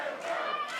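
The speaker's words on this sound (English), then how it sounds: "You hear the crowd getting behind Tempo." Crowd cheering at a live Inspire Pro wrestling event, a dense, steady roar of many voices rising behind a wrestler trapped in a painful hold, heard briefly with no pause.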